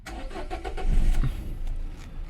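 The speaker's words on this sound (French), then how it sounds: "On va démarrer la voiture." A car with about 218,000 on the clock cranks and catches, its engine starting loudly up close with a brief whirring crank that settles into a steady idle.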